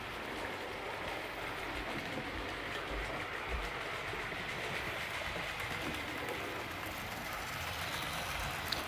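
Model railway locomotive running on its track, a continuous close rumble with a faint rhythmic rail clatter that holds steady throughout, with no talk.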